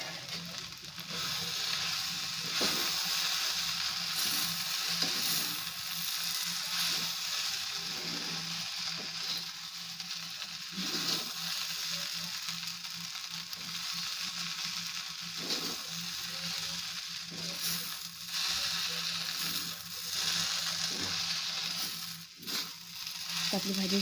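Okra bhaji frying in a pan while being stirred, a steady soft sizzle with intermittent scraping and stirring strokes throughout, fairly quiet and continuous.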